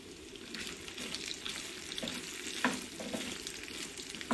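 Arbi (taro) pieces fry in a pan and are stirred, giving a constant dense sizzle with a few light scraping knocks, close but moderately quiet.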